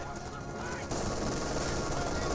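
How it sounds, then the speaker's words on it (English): MG42 machine gun fire in the World War II strategy game Company of Heroes 2, sustained bursts of rapid gunfire mixed with other battle noise, loud and continuous, growing denser partway through. "MG42 getting some good suppression there"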